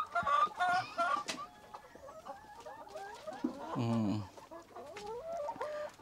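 Rhode Island Red chickens feeding while clucking, with repeated short clucks and a few longer squawking calls from several birds nearby.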